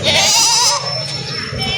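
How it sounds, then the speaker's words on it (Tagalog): A large goat bleats once, loud and close with a wavering tone, at a busy goat market, with a noisy background of crowd and other animals behind it. "Malaking kambing."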